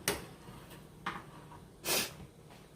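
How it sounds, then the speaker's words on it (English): A few quiet sniffs in a still kitchen after pepper in gravy, short breathy bursts spaced unevenly, the last one a bit longer and stronger. "Excuse me, my sniffing, y'all."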